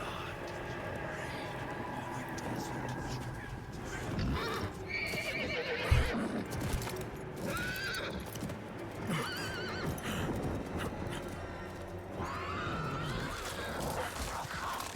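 Horse neighing and clip-clopping hooves in a Diablo game cinematic, several loud whinnies over rhythmic hoofbeats within a busy, layered soundtrack lasting fifteen seconds.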